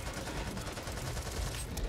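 Rapid automatic gunfire in the zombie shooter game Back 4 Blood, a dense, continuous burst of shots heard somewhat faintly in a busy game mix.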